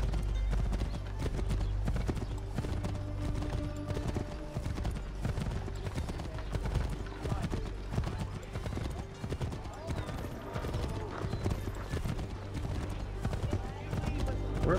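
Horses' hooves clip-clop at a steady trot in an Assassin's Creed 3 game scene, continuous and close, with a voice talking over them.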